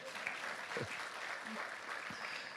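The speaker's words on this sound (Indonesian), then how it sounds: "Ayo kabeh tepuk tangan sih." A church congregation clapping during a sermon, a steady, fairly faint patter of many hands filling the room, with a few brief voices over it.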